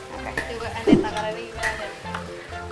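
Salt, sugar and broth powder being stirred into food cooking in a pan, with a soft scraping stir and a light sizzle, plus a brief louder scrape near the start and faint kitchen clatter.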